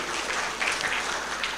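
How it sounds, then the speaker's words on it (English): A conference audience claps for the plenary speakers, producing a dense, continuous patter of many hands at moderate volume that stays steady through the brief moment. "Big applause to two speakers for Professor Kim and Mr."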